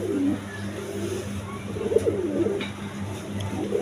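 Pigeons in a Bengali seller's loft, including a Bantinet male and a released female, coo in low repeated bursts close by against steady background noise and faint traffic.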